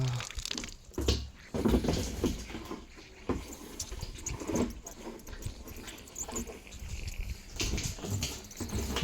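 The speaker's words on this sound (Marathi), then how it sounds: "केवढं पाणी पडाली" Water pouring down heavily in an orchard setting, a steady patter and splash continuing throughout at moderate distance, with no talk.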